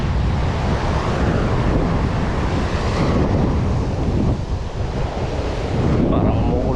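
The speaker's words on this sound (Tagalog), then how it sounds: "Alon." Ocean surf rolls and crashes continuously on a windy, rainy day, with heavy wind buffeting the microphone and a dense, loud wash of noise throughout.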